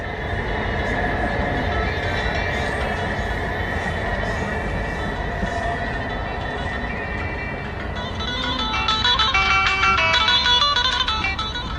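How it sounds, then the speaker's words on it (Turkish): A steady rumbling roar of a train rolls past nearby in Kartal, Istanbul, with metallic squeals and rattling joining in toward the end. "trenle gidiyor bak"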